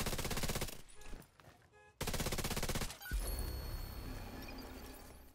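Rapid automatic gunfire in The Division 2, loud close bursts separated by short pauses, then a heavy impact and a quieter, rumbling stretch of distant shots and noise.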